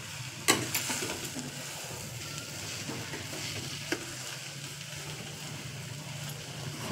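Roasted semolina (rava) stirred in a pan for a large batch of upma, enough for seven or eight people, a soft, quiet scraping and faint sizzle with a couple of sharper spoon knocks.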